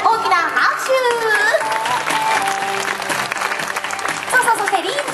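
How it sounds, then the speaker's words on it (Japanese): An audience applauds at a character variety stage at QVC Marine Field baseball stadium, steady sustained clapping with an announcer's voice over it. "お二人に大きな拍手。"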